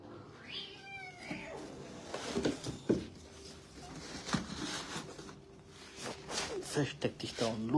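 Young kittens meow faintly and intermittently at close range, with soft cries near the start and end, while a person talks over them for much of the time.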